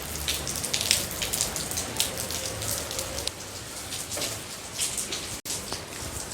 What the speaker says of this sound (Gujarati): જોઈ લ્યો થોડોક વરસાદનો નજારો તમારી સામે રજૂ કરીએ છીએ